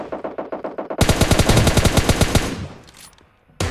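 An M4 assault rifle fired in PUBG Mobile Lite: a run of evenly spaced shots, then a loud, dense sustained spray lasting over a second before tailing off, with one more burst at the end.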